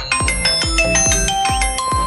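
A phone ringing during a call, a bright bell-like ringtone repeating in quick regular strikes, loud and close with no talk over it.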